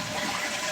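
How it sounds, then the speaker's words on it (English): A toilet flushing, a steady close rush of water that fills the whole short moment without a break and with no voices. "as I flush the toilet"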